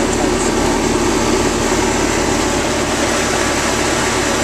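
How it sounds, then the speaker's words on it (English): A homemade air conditioner mock-up's compressor runs close by, a loud, steady mechanical hum with a dense broadband whir that holds constant throughout. "My compressor's having a good time right now."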